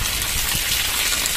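Heavy rain falling outdoors, a loud, dense, unbroken hiss close by with a low rumble beneath and no pauses.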